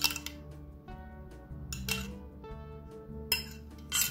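Utensils clink against a dish as barbecue sauce is spread over Outback-style pork ribs, with a few bright scraping and tapping contacts scattered over a quiet kitchen background, no voices.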